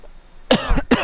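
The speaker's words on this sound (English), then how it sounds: "Excuse me, coughing." Two harsh, close coughs, one right after the other, from a single person, loud against a quiet room.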